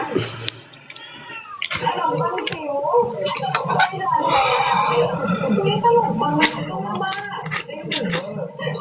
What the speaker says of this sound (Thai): กินข้าวปุ๊บแล้วแมวก็เดินขึ้นมาแค่นี้ดูสกปรกเลย